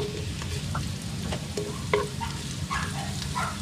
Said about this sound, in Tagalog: Tapos ilagay na rin natin ang sibuyas.